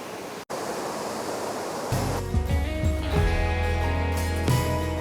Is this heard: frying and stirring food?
no